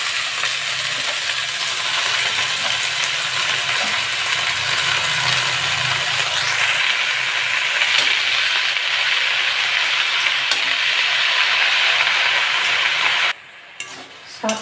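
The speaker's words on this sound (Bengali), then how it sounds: "শাকটা তেলের উপরে দিয়েছি," White leafy greens frying in oil with onion in a pan, a steady broadband sizzle with occasional stirring scrapes, continuous and close before cutting out near the end.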